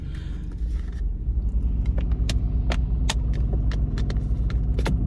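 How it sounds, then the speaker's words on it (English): Road traffic with car engines rumbling steadily, heard from inside or beside a car, with a continuous low hum and occasional brief clicks and rattles. "Oh, this traffic is horrible."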